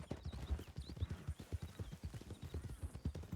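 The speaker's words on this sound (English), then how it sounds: "We'll just rest our horses as we're going in." Horse hooves clip-clop steadily in a video game, a brisk rhythmic series of close, distinct knocks with a brief whinny-like sound high above.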